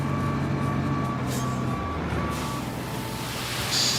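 A truck in the video game Road Craft idles with a rumbling engine while its reversing alarm beeps in a regular repeating pattern, followed by a short burst of air-brake hiss near the end.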